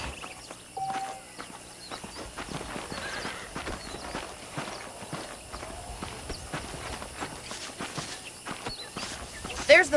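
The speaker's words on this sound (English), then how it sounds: "The horses are saddled up over here." Saddled horses walk in the Red Dead Redemption game world, their hooves clip-clopping in a steady, moderately close rhythm, with an occasional whinny and a low voice in the background.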